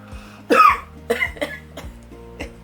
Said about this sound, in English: Made me cough, but I breathed it in.